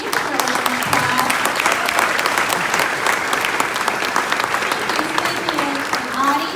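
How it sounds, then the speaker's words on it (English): Audience at a USCIS naturalization oath ceremony in Dallas gives a round of applause, loud continuous clapping from a roomful of people with some voices underneath. "Give her a round of applause."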